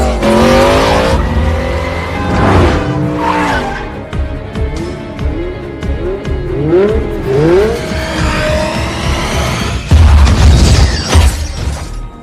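Film car chase with loud engines revving and several sharp, wailing tire screeches rising and falling in quick succession, punctuated by heavy thuds and a crash-like burst near the end.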